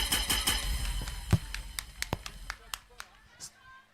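Scattered claps from a small church crowd, a burst of several sharp hand claps that thin out into a few isolated claps, with voices underneath.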